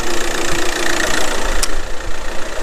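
A hydrogen carbon-cleaning machine runs again after being switched back on, giving a close, steady mechanical hum with a faint knocking pulse and one sharp brief click partway through.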